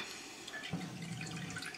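Milk and water mixture is poured into cornbread batter, a soft close trickle and splash that swells partway through and continues quietly to the end.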